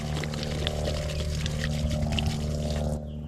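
Salt water from a marsh pours steadily out of a container, a close, continuous gurgling splash that stops abruptly near the end, with no speech.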